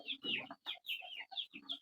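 Chickens in a village coop cluck in quick, choppy bursts, several short calls overlapping in an irregular rhythm, close and clear against a quiet background.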